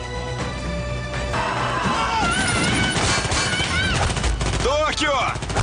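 Gunfire rings out in a shootout with police during a heist in the series Money Heist. Dense, rapid bursts of shots and crashes continue throughout, loud and close, with shouting voices mixed in.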